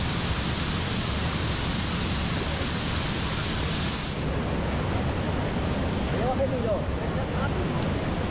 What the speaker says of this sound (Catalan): El segon ràpel baixa per una gran cascada que avui cau amb força